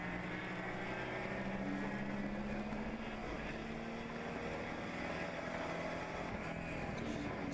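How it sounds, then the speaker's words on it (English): ChampCar Endurance Series race cars at Watkins Glen drone from a distance as they head into a corner, with engine pitches shifting and dropping through downshifts over a faint, continuous roar. "You hear the downshifts as they head into the corner here."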